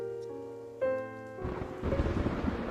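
Rain effect during a tabletop roleplaying game session, entering after a sustained musical tone: a swelling wash of rainfall and distant thunder-like rumble that builds and continues steadily to the end.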